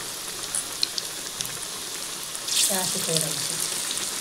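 Bread pakoda slips into medium-hot oil and sizzles with a soft crackling hiss, the bubbling rising as it goes in, while someone speaks quietly over it.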